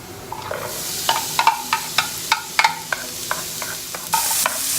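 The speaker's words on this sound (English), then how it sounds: "Okay, and add onions. Stir really well. Let it cook." Onions get stirred into a pot of black beans and rice, with a dozen rhythmic scrapes and clacks of the spoon against the pan over a faint sizzle; nobody speaks.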